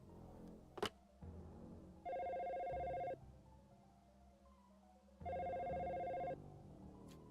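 A telephone in the Dino Crisis video game rings while paging: two long electronic ring bursts about three seconds apart, each lasting roughly a second, over quiet room tone, with a brief sharp click near the start.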